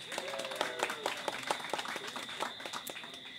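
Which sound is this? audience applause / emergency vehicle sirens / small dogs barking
audience applause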